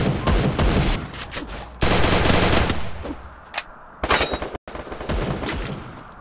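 Rapid shotgun blasts rattle in quick succession in a video game, loud blasts with brief pauses between volleys, sounding like intense combat.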